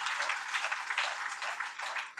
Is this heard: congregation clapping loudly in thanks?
yes